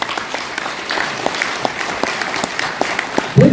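Steady applause from the audience at a book concert for a publication launch in Daegu, many hands clapping evenly throughout with a few louder claps, and a short voice cutting in at the very end.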